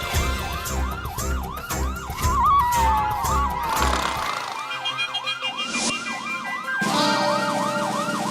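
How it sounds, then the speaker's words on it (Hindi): A wailing police siren sounds at a housing society, loud and close, with repeated rising-falling sweeps over steady low rumble, briefly cutting out midway before resuming. "गोकुलधाम सोसाइटी में पुलिस की सायरन की आवाज।"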